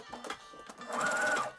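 A sewing machine stitching a headband in short quick bursts, a buzzing motor whir that pauses and restarts, ending in one longer steady run.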